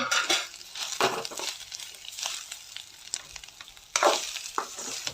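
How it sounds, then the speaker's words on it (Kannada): Grated coconut heating in a pan, soft frying sizzle broken by scrapes and stirring strokes of a spatula, with a louder stirring burst near the end; no voices. "ಫ್ರೈ ಆದಮೇಲೆ ಈ ತೆಂಗಿನಕಾಯಿನ ಹೆಚ್ಚಿಟ್ಟಿದ್ದೀನಿ. ಅದನ್ನು ಸ್ವಲ್ಪ ಬಿಸಿ ಮಾಡಬೇಕು"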